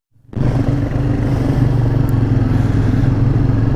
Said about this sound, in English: first impressions on the new Royal Enfield Meteor 350